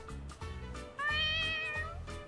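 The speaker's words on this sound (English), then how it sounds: "Oh, stray cat." A stray cat in the video game Yakuza: Like A Dragon meows a few times in quick succession, the calls clear and close over a low background music bed.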